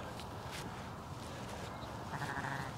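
Sheep and freshly born lambs at lambing time, with soft bleats and calls over a steady farmyard background, fairly close.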